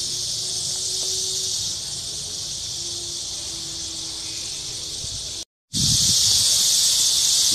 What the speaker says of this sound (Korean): 매미 소리 들리시죠?